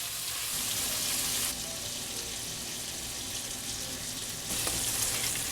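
Bacon sizzling steadily in a pan as it is pushed around to release its grease, a close continuous crackle with brief louder bursts at the start and end.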